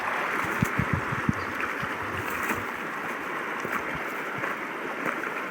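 The Upper Jamieson, a trout river, rushes over small rapids in a steady broadband wash, with faint scattered knocks and splashes near the water.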